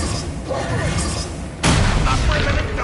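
Bombarda blasting spell going off in Hogwarts Legacy: a sudden loud boom partway through that leaves a sustained rumbling roar, over a steady noisy game background.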